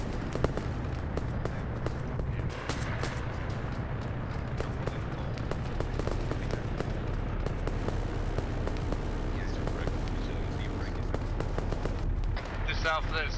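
Sustained gunfire from a video game firefight crackles steadily at mid distance, scattered shots and bursts over a low rumbling bed, with voices talking over it.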